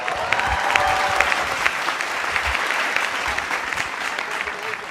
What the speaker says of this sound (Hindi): एक बार किशोर जी के लिए तालियां।